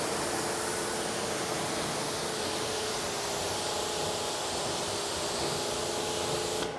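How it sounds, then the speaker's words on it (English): Pressure washer stream hissing steadily onto a car wheel with quick-bead spray detailer mixed into the water, a constant broad wash of noise with no pauses throughout. "we spray the quick beads into the stream of the pressure washer"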